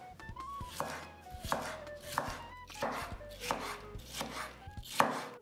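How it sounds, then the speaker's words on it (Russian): Close, crisp knife strokes dice a tomato into small cubes on a cutting board, repeating in a quick steady rhythm for a meat-free stuffed cabbage pie filling. "Помидор также нарезаем на мелкие кубики."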